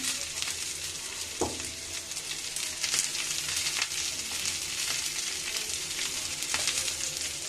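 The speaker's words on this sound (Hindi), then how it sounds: "इनको अच्छे से सौटे करना है। तेल में हम सौटे कर लेंगे।" Vegetables such as cabbage sauté in hot oil in a pan, giving a steady close sizzle with crackling bursts and occasional stirring scrapes, no talking.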